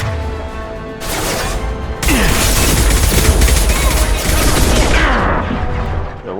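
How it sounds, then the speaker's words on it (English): Sustained gunfire in the video game Mass Effect 2, with dense, loud bursts of rapid shots, booms and crashes mixing into a continuous barrage that briefly thins before surging again. "what's shooting at us?"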